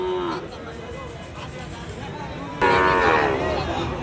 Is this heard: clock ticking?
no